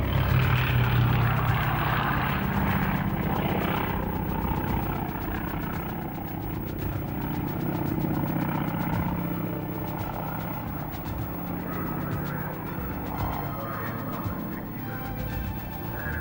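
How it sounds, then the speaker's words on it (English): Grumman S2 Tracker anti-submarine patrol aircraft of the Royal Australian Navy: a loud, continuous piston-engine propeller drone with a steady, slightly throbbing hum that holds throughout, no voices. "Regarded as some of the best shipboard anti-submarine patrol aircraft to ever fly is the Grumman S2 Tracker."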